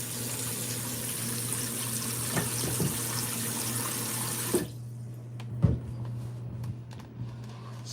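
A kitchen tap runs water into a mixing bowl for rinsing lobster, a steady close rushing that cuts off about halfway, leaving a few clinks and handling sounds over a low hum.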